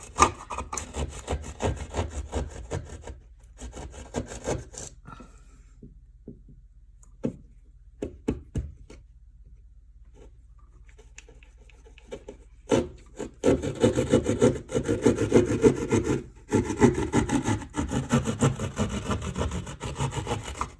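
A hand saw or rasp works through a wall to enlarge an outlet box hole, with scattered scraping strokes and knocks early on, then steadier, louder back-and-forth rasping in the second half.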